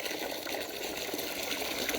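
Cold water gushes steadily and close by as it is poured out for goats to drink, a continuous splashing flow with no pauses or voices.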